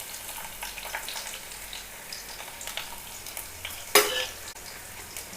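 Chopped shallots fry in a pan for a curry tempering with mustard seeds and curry leaves, giving a soft, continuous sizzle with faint crackles and one brief sharper burst near the end.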